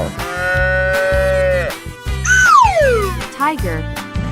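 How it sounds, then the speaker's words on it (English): A cartoon cow moos in a 3D animal slide video game, a long, loud, drawn-out bellow followed by a falling bleat, with game music and cheerful voiceover around it. "Cow."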